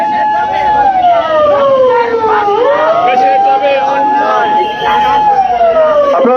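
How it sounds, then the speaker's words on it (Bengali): An ambulance siren wailing up and down in long sweeping tones as it moves through a crowd, loud and close, with voices and crowd noise underneath. "অ্যাম্বুলেন্সটা একটু সাইড দিয়ে দেন"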